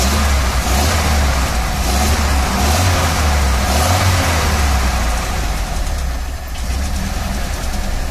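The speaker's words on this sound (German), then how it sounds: "Wie leise der läuft, ist heftig." An old ErAZ van engine idles steadily with a low, even rumble, close by and continuous, with no voices.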